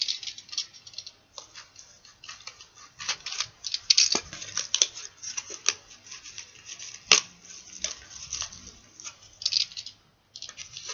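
Scissors cut through material for a black Kirito long sword prop, making a close, irregular series of crisp snips and clicks with short pauses between cuts.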